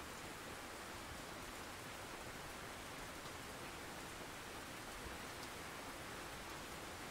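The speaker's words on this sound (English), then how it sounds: "This stupid heavy rain is not letting up." Heavy rain falling steadily at a carp fishing spot, a dense, even hiss that stays constant throughout with no voices.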